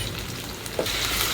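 Ginger garlic paste frying in hot oil in a pan, after chillies and onions have been sautéed, for a potato tomato curry. It gives a steady, close sizzle and crackle with a slight stirring scrape, and no voices.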